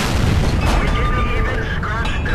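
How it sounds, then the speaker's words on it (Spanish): A tank cannon fires in the World of Tanks video game, a heavy boom lingering in dense, rumbling battle noise, while someone speaks over it. "Y ese disparo lo único que ha hecho ha sido romper las orugas."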